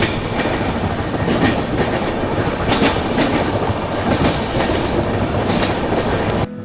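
A passenger express train rolls over a three-track rail bridge, a loud continuous roar with rhythmic clickety-clack of wheels on the rails, steady throughout.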